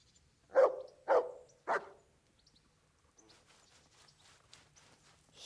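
A dog in the Kingdom Come: Deliverance video game gives three short, distinct barks close by, followed by faint, scattered clattering.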